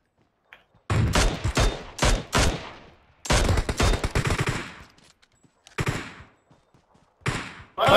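Gunshots in the mobile battle royale game PUBG Mobile ring out in loud, close bursts of rapid automatic fire, separated by short silent gaps, with several distinct volleys and no talking.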